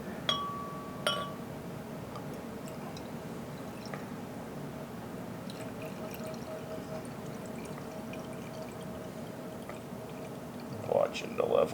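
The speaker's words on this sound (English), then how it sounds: "A little bit of a pour action here." Homemade cyser of Cortland apple and macadamia honey pours gently from a bottle, a soft continuous trickle with faint drips, close and quiet, with someone talking now and then.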